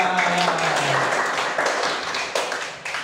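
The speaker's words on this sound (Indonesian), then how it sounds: "tepuk tangan untuk Hilya" Third-grade pupils in a primary school classroom clap their hands for a classmate, a brisk, close patter of claps that starts strong and tapers off in a few scattered final slaps.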